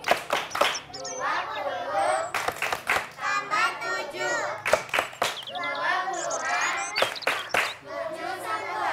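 A group of children in a classroom claps out a counted pattern in sharp bursts of claps, mixed with a teacher's and children's voices chanting and talking between them.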